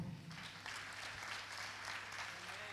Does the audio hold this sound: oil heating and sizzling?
no